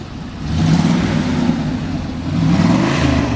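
A 1979 Pontiac Trans Am engine revs up twice through dual exhaust with a deep, throaty note, close by and loud, with no voices.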